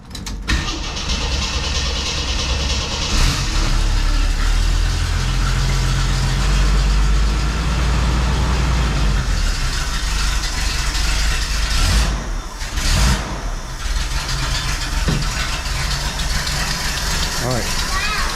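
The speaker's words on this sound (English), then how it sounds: "Good news, the car started. Bad news, it did not run very good." A Jeep CJ7 engine cranks and catches, then runs loud and uneven with a rough, lumpy idle that surges and dips for several seconds.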